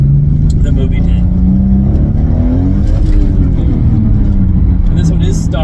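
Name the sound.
stock Toyota Supra twin turbo spinning wheels in first gear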